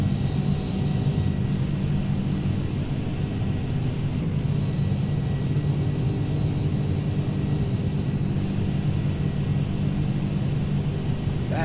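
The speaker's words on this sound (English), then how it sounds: "Hear how that wind change as them flaps come in?" Steady, loud rushing wind and low rumble inside an MD-11 cockpit in Microsoft Flight Simulator as the flaps extend, a constant airflow roar with slight shifts in tone and a few faint clicks.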